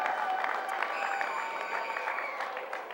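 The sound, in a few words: crowd applause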